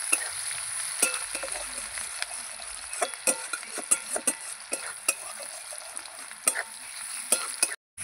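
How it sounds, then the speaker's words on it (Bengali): Chopped onions fry until reddish in a pan for a Bengali fish curry, a soft continuous sizzle punctuated by close spatula scrapes and taps against the pan, with no talking. "পেঁয়াজটা আমি ভালো করে ভেজে নেব, একটু লাল লাল করেই ভাজবো"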